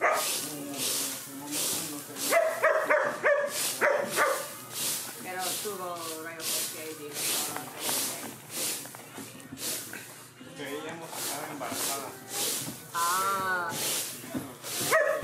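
Dogs at an animal rescue centre during a check-over, with close barks, whines and whimpers repeating throughout, mixed with rubbing and scuffling sounds.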